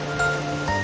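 Strong waves break on the East Sea coast, a steady close surf wash filling the short moment, with faint tonal music layered over it.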